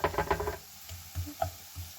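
Mushrooms frying in a pan for a Ukrainian mushroom caviar, a soft sizzle with a few quick stirring scrapes at the start, then quieter crackling and occasional pops.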